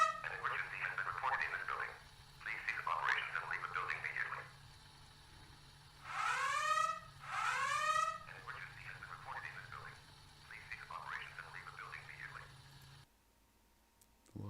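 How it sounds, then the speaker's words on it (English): An electronic alarm goes off in a Mandela Catalog analog horror video, sounding in repeated chirping bursts with two louder warbling blasts in the middle, over a low steady hum before it cuts out. "An alarm is going off."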